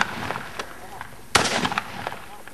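A single sharp gunshot rings out during a bird hunt, loud and abrupt against a quiet outdoor background with faint scattered rustles.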